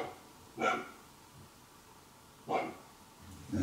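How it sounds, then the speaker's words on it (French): A dog barks at an old mill, two sharp, fairly loud single barks about two seconds apart, heard alone over a quiet background. "Pourquoi le chien il pète un plomb?"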